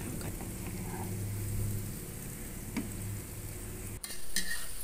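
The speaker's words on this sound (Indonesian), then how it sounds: "aku udah goreng-goreng bawang merah, bawang putih" Shallots and garlic fry in a pan, a loud, constant sizzle like heavy rain with brief clinks and stirring scrapes, close by, a sharp knock near the end, then the hiss swells again.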